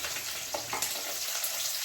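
Garlic frying in oil in a pan after mustard seeds have popped, for a mango dish, giving a close, continuous crackling sizzle with small spits and stirring scrapes throughout.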